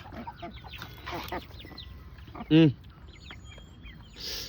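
An Aseel chicken gives a loud cluck amid softer background clucks at feeding time, with voices talking nearby in a village.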